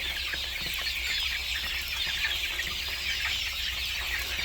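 Four-week-old Master chicks, a meat-and-egg breed, crowd around a farm feeder. Their clucking and cheeping forms a dense, continuous chorus, close and fairly loud, with no talk over it.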